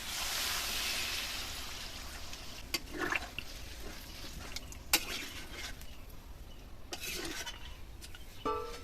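Water is poured into a pot of country chicken curry with fried potatoes and drumsticks, a faint splashing rush at first that fades into softer, intermittent sloshes and clinks.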